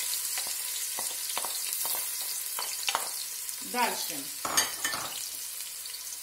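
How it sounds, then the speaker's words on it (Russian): Finely chopped onion hitting hot olive oil in a heated pot, a steady sizzle with scattered sharp crackles and stirring clicks, close and fairly quiet; a brief word is spoken. "в разогретую кастрюлю мы налили оливковое масло, оле д'олива. Я нарезала мелко лук и отправляем сюда лук."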